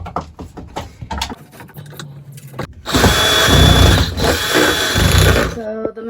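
Power drill backing screws out of a bunk light inside a GeoPro 20BHS RV camper: a loud, steady whirring drill run of a few seconds follows a stretch of talking and small handling noises nearby.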